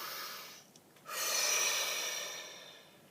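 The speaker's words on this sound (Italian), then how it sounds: "facciamo un bel respiro profondo" A single deep breath taken in slowly through the nose and mouth, close and fairly loud, rising to a long airy exhale with no talking over it.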